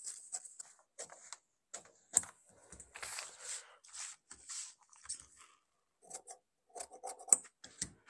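Scissors cutting blouse fabric for a princess-cut blouse front, a close series of short crisp snips in uneven bursts with brief pauses between them.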